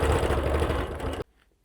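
A sewing machine stitches a quilt with a fast, steady close-up whirring hum that stops abruptly after just over a second.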